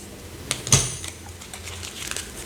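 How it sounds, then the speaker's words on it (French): Tarot cards being shuffled by hand, giving a few quick papery flicks and riffles with one louder snap near the start, close and fairly quiet, with no voice. "Je bats les cartes devant vous"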